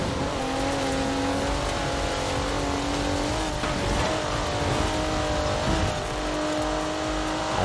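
A Porsche Macan accelerating in the video game Forza Horizon 4: a loud, sustained engine drone climbs steadily in pitch, with occasional tyre and road noise layered underneath.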